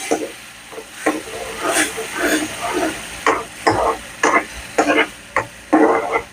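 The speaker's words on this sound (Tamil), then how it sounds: "நல்லா கிண்டி வச்சுக்கிட்டே இருங்க." A spoon stirs a pudina (mint) rice mixture in a pan over a medium flame, scraping in repeated short strokes with a faint sizzle underneath, close and fairly steady.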